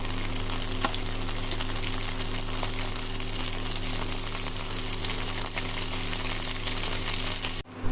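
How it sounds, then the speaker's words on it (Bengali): Dried red chillies fry in mustard oil in a frying pan, giving a steady, close sizzle that holds evenly for the whole stretch, with faint stirring noises and no talk. "প্রথমে ফ্রাইং প্যানের মধ্যে সর্ষের তেল দিয়ে দিলাম দিয়ে কটা শুকনো লঙ্কা একটু এপিট ওপিট করে ভেজে নেব"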